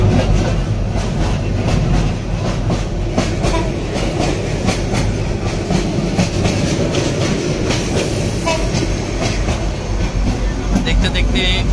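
A fast Lalmoni Express train rushes past, rattling in a loud, constant roar with rapid clickety-clack from the wheels and a brief high squeal near the end.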